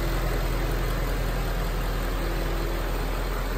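An Audi A8 with a 4.2 litre V8 diesel engine idles smoothly, a steady low rumble with a broad even hiss and no knocks or rattles, heard close and alone without voices.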